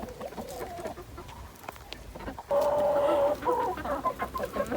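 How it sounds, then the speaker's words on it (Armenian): Backyard chickens cluck and squawk close by, with one long, loud, drawn-out call in the middle of the clip and quieter broken clucking before and after. "վրա են տվել հավերս"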